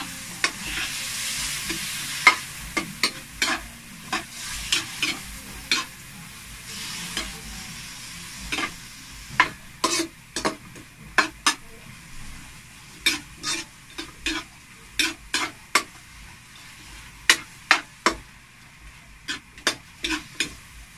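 Chicken pieces fry in a pan under a low, constant sizzle while a utensil stirs them in irregular bursts of sharp scrapes and knocks, near and unaccompanied by speech.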